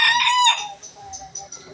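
A rooster crows hoarsely in one loud, rough call at the start, then fades into softer scattered clucks and faint fowl noises for the rest of the moment.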